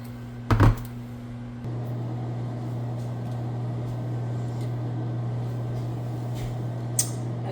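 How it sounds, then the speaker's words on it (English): A microwave oven cooking potatoes hums steadily with a low electrical drone, preceded by a brief clunk of the door or buttons and a faint click near the end. "now we're gonna get these in the microwave cooking"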